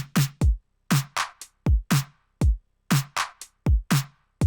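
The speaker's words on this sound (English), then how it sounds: "It's a kick, a snare, and a clap," A programmed drum stem of kick, snare, clap and hi-hat plays alone in a tight repeating pattern, each hit sharp and dry, with deep kicks alternating with bright snare and clap strikes and short gaps of silence between.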